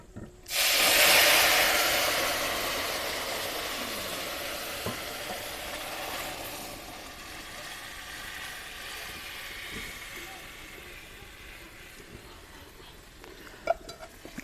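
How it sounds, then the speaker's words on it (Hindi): Sugar syrup poured over roasted semolina sets off a loud, broad hiss that slowly settles into a steady sizzle, with faint stirring clinks through the rest of the clip and no one talking. "अब हम इसमें चीनी वाला शरबत डालेंगे।"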